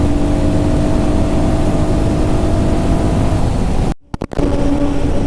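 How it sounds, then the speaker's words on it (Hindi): A Royal Enfield Guerrilla 450 motorcycle engine hums in a steady, loud drone while riding, mixed with heavy wind rush, then cuts out abruptly for a moment near the end before resuming. "इंजन इतना रिफाइंड फील होता है, इतना रिफाइंड इंजन फील होता है ना 70 to 80 90 भाई, ऐसा लगता है ना कि एकदम म्यूज़िक"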